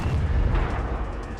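A recorded explosion for modern military shooter game sound design: a deep, rumbling boom with a rolling low-end tail that decays over about a second and a half, heard alone.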